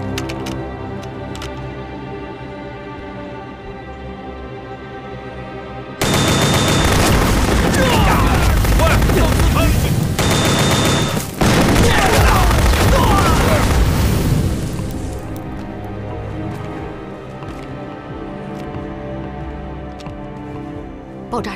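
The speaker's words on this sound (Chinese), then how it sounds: "爆炸声是从小赵庄传来的" A wartime village battle in a war film: a sudden roar of explosions and rapid gunfire erupts after a quiet stretch, loud and dense for several seconds with a brief gap, then fades back to low background.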